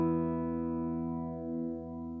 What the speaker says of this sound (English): So we've got this really nice sort of subtle, slow moving vibe